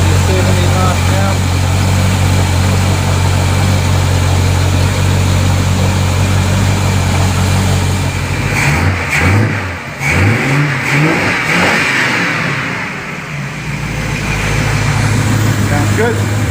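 A Chevrolet Camaro engine, four-stud build with a new starter, idles steadily and loud up close while warming up, then blips and revs several times near the end, with someone talking over it.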